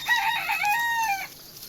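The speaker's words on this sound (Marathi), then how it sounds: "इकडं उकंड्यावरती आपल्या कोंबड्या उकरून खात आहेत" On a farm, a chicken gives a single close, clear call lasting about a second, with faint background noise after it fades.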